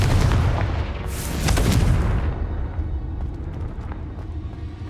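The Confringo explosive spell cast in Hogwarts Legacy on PC lands as a heavy, booming blast that rumbles loudly and then fades into a lingering crackling tail, with no speech.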